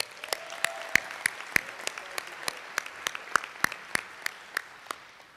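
Sparse audience applause at a church synod assembly session, a small number of distinct, irregular claps ringing out in a reverberant hall for several seconds.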